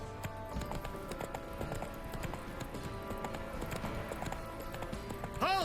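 Horse hooves gallop in a steady clip-clop rhythm in The Witcher 3, running continuously under game music and ambience, with a brief whinny-like sound near the end.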